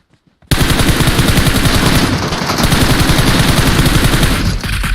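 Loud sustained automatic gunfire in PUBG Mobile rattles almost nonstop for several seconds right after a brief quiet start, dense and close with rapid repeated shots.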